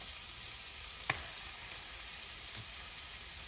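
Tomatoes cooked with the skin on fry in a pan for stuffed plantain wraps, making a soft, steady sizzle with a couple of faint ticks, quiet and close, with no talk.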